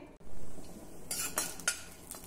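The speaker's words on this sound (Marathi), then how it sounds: "मिरची अगदी खमंग आपल्याला भाजून घ्यायची आहे" Green chilies roasting in a pan for a Khandeshi-style spring onion stir-fry, heard as a few short scraping and clinking stirs with a faint sizzle underneath, close by and with no voices.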